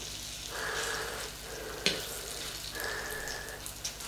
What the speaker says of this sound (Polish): Patelnia już stoi, tłuszcz się rozgrzał, więc możemy smażyć nasze placki